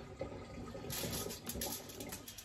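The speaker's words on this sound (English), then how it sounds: "Wash the hands again." Running tap water splashing over hands at a kitchen sink while preparing a hangi in a crock pot, a steady close wash with no talking.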